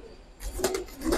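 A Kaldam pigeon gives two short, low throaty coos close by, brief and soft against a quiet background.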